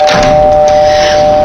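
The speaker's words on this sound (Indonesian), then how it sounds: "mulai membunyikan bel" A doorbell chimes at the front of a house in the early hours, a steady bright electronic tone ringing out loud and close over a faint background hum.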